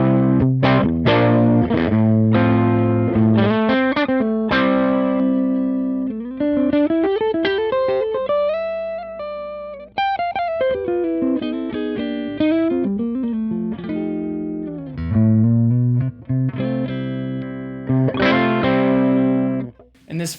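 An electric guitar's stock tone played straight from the amp, a clean, slightly effected melodic phrase with plucked notes, bends and sustained chords, close and clear with no talking.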